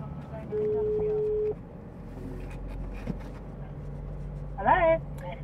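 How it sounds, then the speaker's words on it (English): A phone call placed through an Apple CarPlay or Android Auto car system rings once with a steady tone of about a second, then low cabin hum and faint sounds follow. "Okay, Google, call Kaz. All right, calling Kaz"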